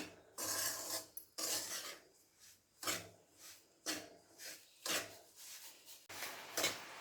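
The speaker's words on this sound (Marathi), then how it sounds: "मंद गॅसवर अगदी वीस मिनटात आपण हा रवा भाजून घेऊया" Semolina (rava) roasts in a pan over low gas for rava laddu, stirred in repeated gritty scraping strokes about twice a second, quiet and close with short pauses between bursts.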